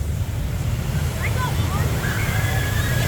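Water rushing and splashing steadily from a canyon river-rapids boat ride plunging down a drop at SeaWorld Orlando, a loud continuous wash with spray and crowd noise, faint voices calling out over it.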